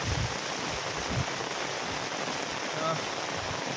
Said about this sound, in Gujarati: વરસાદ જબરજસ્ત ચાલુ છે